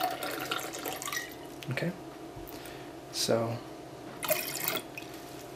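Liquor pours from bottles fitted with speed pourers at a bar, giving soft, close trickling and splashing bursts between stretches of quiet, with a voice speaking briefly over them.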